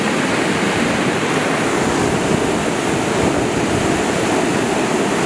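A debris flow surges down a mountain torrent at Le Claret, its rushing water making a loud, steady roar with dense low rumble that continues unbroken throughout.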